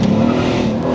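An 800 HP turbocharged Mercedes E63 AMG accelerates hard with the throttle floored, giving a loud, dense, continuous engine roar heard close up from inside the car.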